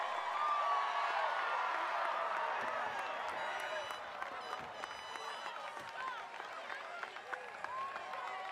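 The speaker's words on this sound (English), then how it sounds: "let's have a round of applause for the graduates of 2018" A crowd at a 2018 Barrington High School graduation ceremony applauds the graduating class, giving a steady wash of distant clapping with scattered cheers and whoops throughout.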